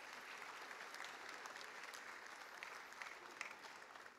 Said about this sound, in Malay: Kita berikan tepukan sekali lagi.